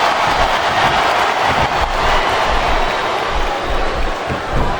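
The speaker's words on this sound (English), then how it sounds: "Listen to the crowd, JR." A loud, unbroken roar of a large arena crowd in a WWE SmackDown vs. Raw 2007 wrestling video game, continuous and dense throughout, with no voices standing out.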